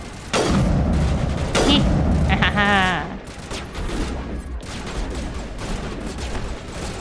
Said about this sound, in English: I want to shoot him across the floor